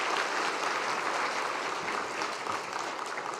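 A church congregation at a New Year's Eve service claps for the choir after a year of singing: dense, sustained applause filling the hall, loud and even throughout, with no speech.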